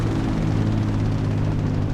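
A plane flying in the video game GTA V, a loud, steady droning engine hum with a dense rumbling tone held throughout and no talk.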